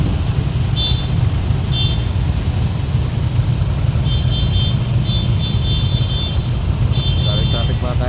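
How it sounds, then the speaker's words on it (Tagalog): Heavy road traffic in the Philippines rumbles on steadily nearby, with engines droning and several short horn toots rising above the noise at intervals. "Ay, sobrang ng traffic ngayon mga ka-idol."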